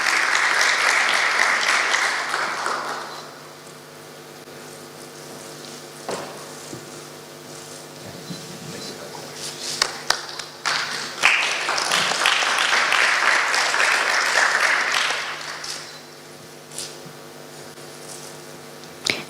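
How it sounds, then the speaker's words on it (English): Clapping audience at a dive technology summit award moment: a burst of applause fades, scattered claps and room noise linger, then a second full round of applause swells and tapers off. "A round of applause, please."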